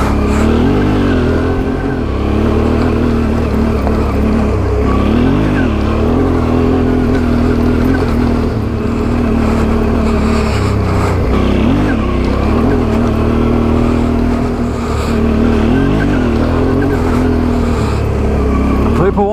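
A Suzuki V-Strom adventure motorcycle with its front fairing removed revs hard climbing a long hill, its engine droning loud and close, rising and falling with throttle changes throughout.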